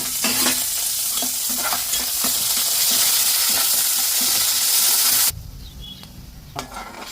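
Cumin, dry chillies, garlic, chana dal and curry leaves crackle and sizzle in hot oil as a tempering is stirred, loud and close with scraping strokes, then the sizzle drops away sharply to quiet with a few knocks.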